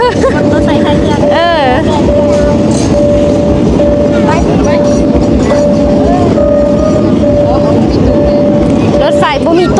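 A train passes near a busy market area in Thailand, its loud rumbling, clattering roll filling the scene with a sustained horn-like tone, while people talk over it throughout.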